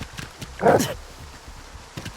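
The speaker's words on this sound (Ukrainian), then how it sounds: "Ой, собаки заспавнились" Dogs spawn in the video game S.T.A.L.K.E.R. 2, giving one loud snarling growl amid light footstep-like thumps and faint game ambience.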